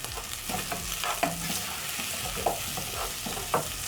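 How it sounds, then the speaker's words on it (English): Beef frying in a pot being stirred, with a continuous sizzle broken by repeated scraping and clinking strokes of the spoon, close and clear with no talk. "I'm going to give my meat a stir."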